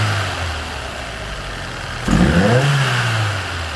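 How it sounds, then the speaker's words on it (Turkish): Ford C-Max 1.6 petrol engine idling, then revved sharply once with a rising roar that settles back toward idle, close up and loud with no talking. "Aracımızı çalıştırdık. İşlemlere başlamadan önce size bir sesini dinletelim."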